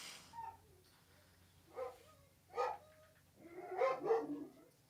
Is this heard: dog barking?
yes